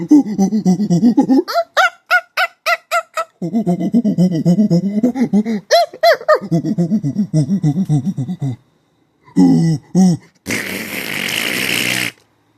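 A voice makes rapid, rhythmic hooting and chattering noises imitating monkeys, loud and close, in bursts with brief pauses, ending with a harsh breathy blast.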